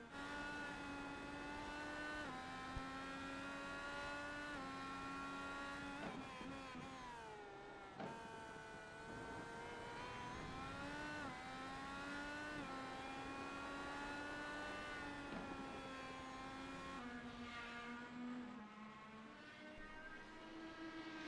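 An IndyCar engine heard onboard at Road America in the iRacing sim races as a loud, steady high-revving whine that rises through gears, dips on downshifts into corners and climbs again.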